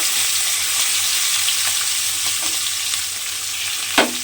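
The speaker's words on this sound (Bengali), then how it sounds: "এইবারে আমি চিংড়ি মাছগুলো তেলের মধ্যে দিয়ে দেব। দিয়ে চিংড়ি মাছগুলো আমাকে ভেজে নিতে হবে।" Prawns fry in hot oil in a pan with a steady, bright sizzle that holds throughout, broken by a few faint clinks and one sharp utensil tap near the end.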